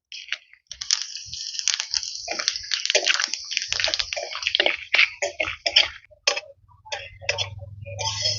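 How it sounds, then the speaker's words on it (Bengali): Whole bay leaf, cumin seeds and whole garam masala hit hot oil in a pan, giving a burst of crackling, popping sizzle that thins into scattered pops as a low hum rises beneath. "তেল গরম হয়ে গেছে, ফোড়নে দিয়ে দিচ্ছি একটা তেজপাতা, গোটা জিরে আর গোটা গরম মশলা।"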